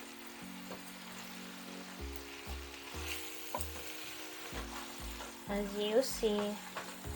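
Tilapia fish sizzles and crackles in a small frying pan, a steady fry heard close up under a person's voice, with occasional stirring knocks and a brief louder spatter toward the end.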